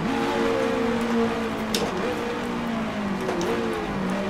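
Engine of a 1966 Tasman Series Grand Prix racing car in the Grand Prix Legends game, held at full throttle through a kink at the 1966 New Zealand Grand Prix. A steady, loud, buzzing drone with rising and falling pitch sweeps continues throughout, with no pauses.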